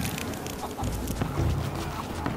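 Chickens cluck in Rise of the Tomb Raider, a steady run of short, close game-animal clucks over busy ambient background sound, with no voice heard.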